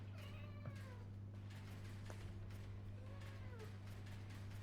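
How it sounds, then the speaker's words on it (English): Several cats meow in a room, clear calls and drawn-out caterwauls rising and falling over a steady low hum, with quieter mews scattered between the louder cries. "damn cats"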